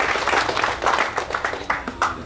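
Applause from an audience at a Malaysian oil palm smallholders' gathering in Tambunan, honouring the association president: a few seconds of patchy, uneven clapping, moderately close and fairly thin, with no talk over it.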